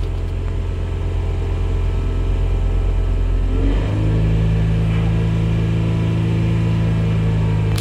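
A Kia Sedona van engine runs steadily after an air intake hose repair for a P2819 fault, a loud close rumble at a high idle that shifts pitch partway through as the revs settle.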